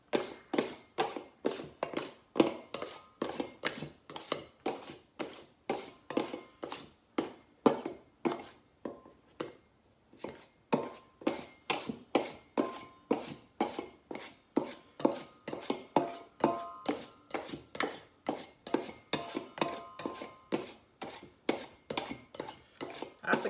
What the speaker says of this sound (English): Chopping my bowl up with 2 butter knives.